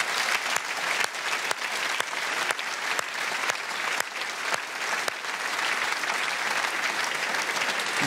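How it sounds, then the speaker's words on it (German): A large audience applauding at a German founders' award ceremony, a dense, steady wash of clapping with a few sharp individual claps standing out, sustained for the whole stretch without speech. "Und das ist einen Applaus wert."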